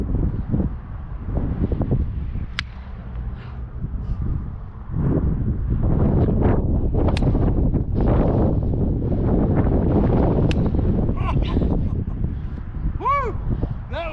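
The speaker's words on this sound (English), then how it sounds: "when this wind's picking up" Gusty wind roars across an outdoor baseball batting practice, loud rumbling bursts of microphone buffeting that rise and fall throughout, with people talking and a few sharp knocks in between.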